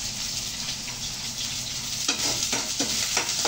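Onions and tomatoes sizzling in a pan, a steady close frying hiss with several scraping stir strokes in a rhythmic pattern near the end.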